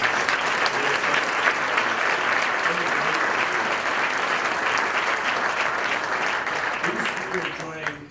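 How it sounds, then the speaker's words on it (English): An audience at Bridgeport's State of the City event applauds in a dense, sustained round of clapping that holds steady for about eight seconds before tapering off at the end. "Would you please give them another big round of applause?"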